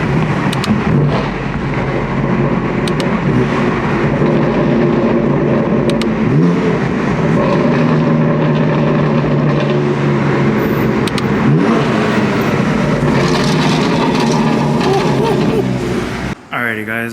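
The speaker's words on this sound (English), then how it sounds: "We are in the M4 GTS today." A BMW M4 GTS fitted with a roll cage drives through Beverly Hills, its engine a loud, close, continuous drone with rises in revs, and people talk over it from inside the cabin.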